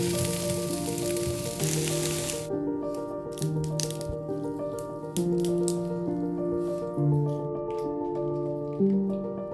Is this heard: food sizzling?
yes